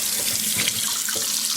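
Tap water runs into a baby monkey's bath, a steady bright hiss of faucet flow splashing into the tub, close and continuous with no voices.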